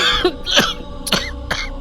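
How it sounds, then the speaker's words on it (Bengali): Someone coughing hard after drawing on a cigarette, with a string of four rough, close coughs and throat-clearing bursts spaced across a couple of seconds, with no talk. "আরে কাশি শুরু হয়ে গেল যে"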